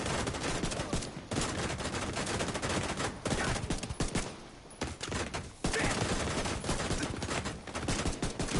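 Dense, sustained gunfire from The Division 2, with rapid bursts and overlapping shots running loudly and continuously, broken by brief lulls, with faint voices underneath.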